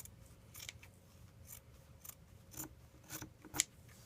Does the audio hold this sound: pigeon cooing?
no